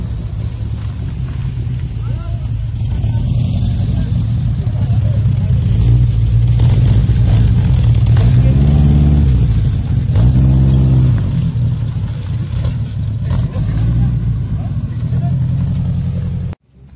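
Classic Alpine and Caterham sports cars rumble and rev up close at a vintage vehicle show, engine note rising and falling in sustained swells, with people talking nearby.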